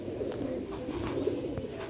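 A pigeon coos softly and repeatedly, close by, over a steady low background rumble.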